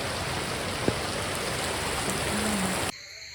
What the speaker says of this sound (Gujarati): આ સાઈડ તો કાંઈ પાણી ચાલુ થઈ ગયું છે